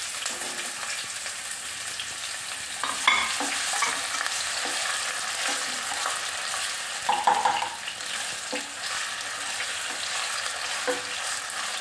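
Chopped potatoes sautéing in a hot pan for sabudana khichdi, a continuous crackling sizzle with occasional stirring knocks and scrapes, close up with no voices.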